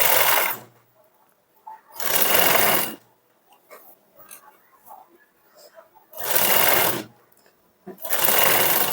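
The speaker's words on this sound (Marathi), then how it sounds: "आता पूर्ण बाहेर आपल्याला शिलाई मारून घ्यायची" Sewing machine stitching the sleeve seam of a blouse, running in four loud bursts of about a second each, two near the start and two near the end, with quiet handling sounds and faint movement between them.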